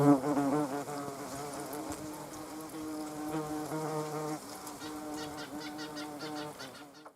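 A bee gives off a steady, fairly close buzzing drone that wavers in pitch over several seconds, heard on its own before fading out at the end.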